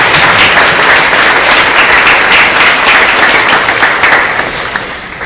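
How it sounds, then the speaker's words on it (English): An audience gives sustained, loud applause for the parents of student athletes at a winter signing day ceremony, dense clapping that holds steady before tapering slightly near the end. "Let's give their parents a big round of applause"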